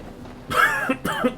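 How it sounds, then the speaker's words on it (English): Two loud, close coughs, a harsh burst followed by a second shorter one, from a person with a lingering cough while playing From the Depths. "I still have a lingering cough"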